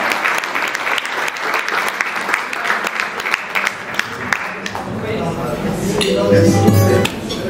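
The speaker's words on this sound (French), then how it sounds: "je vous demande d'applaudir monsieur Taramba" Loud applause from guests at a business dinner in Paris, many close handclaps for several seconds, then fading under room noise, clinks and talk as the clapping ends.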